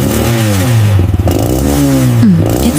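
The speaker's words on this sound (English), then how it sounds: "She stays calm, just enjoying the steady buzz of her mope." A vintage moped engine running after a cold start, a loud, close buzzing two-stroke drone with gliding pitch as it is revved up and eased off, with slight rattling and clatter and no voices.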